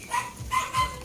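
Dogs bark in three short bursts, close and fairly loud, while they are fed bread or cake.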